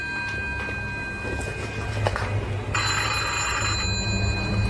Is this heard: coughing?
no